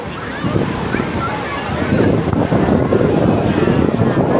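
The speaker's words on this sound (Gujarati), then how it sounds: "જો મોજા તો એક તો જોરદાર આવે જ છે" Loud sea waves crash and churn nearby at Dwarka in a continuous roar of surf, with gusty wind buffeting the microphone.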